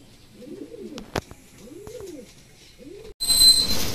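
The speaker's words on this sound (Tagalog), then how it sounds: "Ayan, yung mga ibon natin." Pet pigeons coo softly in repeated rolling phrases at close range, with a couple of sharp clicks between calls and a burst of rustling noise at the end.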